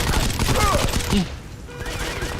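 Rapid gunfire bursts from the mobile shooter Modern Combat 5 crackle in quick succession for about a second, loud and close, then give way to quieter game ambience.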